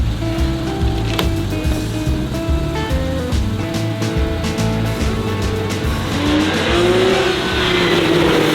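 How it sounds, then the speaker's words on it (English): A Porsche 911 Targa engine and exhaust rumble steadily and close, with gear-like steps in pitch and a rising rev toward the end, under a constant rush of road and wind noise. "Exhaust sounds amazing."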